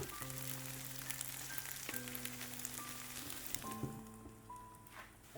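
A chive and egg pancake pan-fries on its second side, giving a steady, close sizzle that runs the whole time and eases slightly toward the end, with faint tonal background music.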